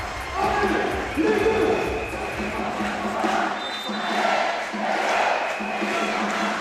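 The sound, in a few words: crowd cheering at sitting volleyball match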